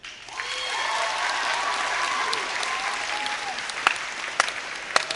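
A live audience breaks into clapping, a steady wash of applause that builds quickly and holds, with a few sharper individual claps standing out as it thins near the end.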